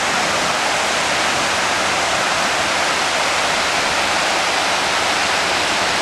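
Water pours over a weir on the River Don in Rotherham, a loud, continuous broadband rush with no breaks and no voices.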